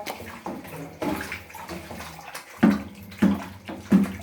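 Fish meat rinsed in water during cleaning, giving several loud sloshing splashes in a basin that come in bursts, each surge of water stronger toward the end, with no talking.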